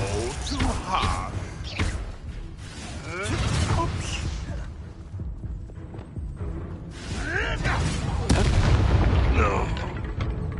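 Confringo fire spells burst repeatedly during combat in Hogwarts Legacy, a string of booming explosions and crackling impacts mixed with game effects while a voice shouts spell names throughout.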